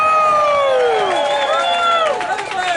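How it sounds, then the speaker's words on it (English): Rally crowd cheering and applauding loudly and continuously, with shouts and whoops rising over a dense wash of clapping; excited voices call out throughout. "Let's give him a round of applause."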